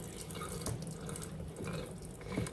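Cold tap water runs steadily into a kitchen sink to rinse off melted sugar, a continuous broadband splashing with a few louder gushes, close and alone with no talk.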